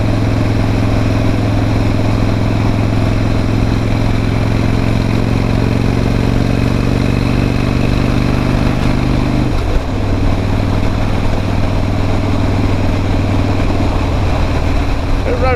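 A Harley-Davidson motorcycle engine rumbles steadily while riding on a road with sweeping bends, a loud continuous low drone with a brief shift in tone around the middle as the bike changes speed.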